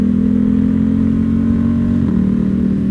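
A Ducati Panigale V2 Bayliss motorcycle with an Akrapovic full exhaust runs at a steady low rumble close by, its loud engine note holding constant with a slight pitch shift near the end.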